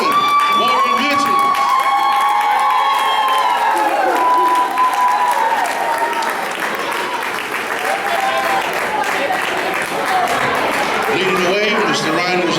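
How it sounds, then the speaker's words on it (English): Audience applause fills an awards night for 2011 Warrior Veterans: loud, dense clapping with some cheering runs steadily for about twelve seconds, and a held tone and voices sit faintly underneath. "please give a round of applause for your 2011 Warrior Veterans."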